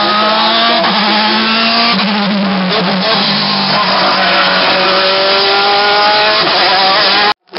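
A race car driven by Italian Renzo Napione at a hill climb screams past close and loud, its engine revving high through rapid gear changes and pitch sweeps before cutting off abruptly at the end.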